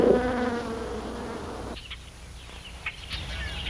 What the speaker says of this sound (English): Buzzing and wiggling back and forth.